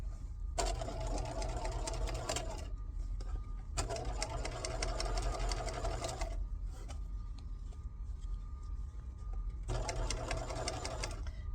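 A sewing machine stitches a bag in three bursts of rapid, even mechanical whirring, each a few seconds long, separated by quiet pauses, close and clear.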